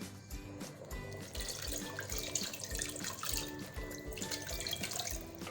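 Water runs and splashes steadily into a metal pot of paye (trotters curry), a continuous close pouring sound with a faint rhythmic knocking underneath.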